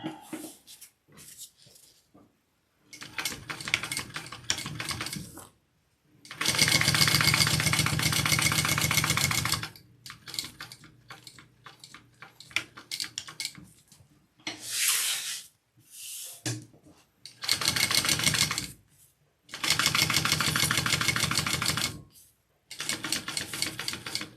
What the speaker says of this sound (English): I'm gonna sew this on.